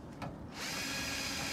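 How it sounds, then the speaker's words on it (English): A power drill drives the stabilizer jacks on a travel trailer, first a brief whir and then a steady, loud motor drone that runs without a break to the end. "I modified this piece where I can just use my drill"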